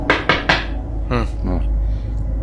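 Three sharp knocks on a bathroom door, imitated loud and close, followed by short voiced sounds over a low steady hum.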